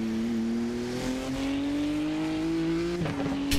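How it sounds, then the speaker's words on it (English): Cup car engine in the iRacing racing game at the Nürburgring combined circuit, a steady droning note rising gradually in pitch as it accelerates, then a brief shift around three seconds before climbing again, loud and without talk. "A decidedly less good sounding engine"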